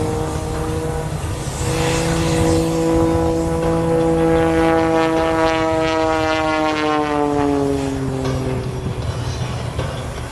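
A propeller airplane at the 2010 Dayton International Airshow drones loudly overhead during a hesitation roll, its engine pitch sliding steadily as it maneuvers, with constant wind noise throughout.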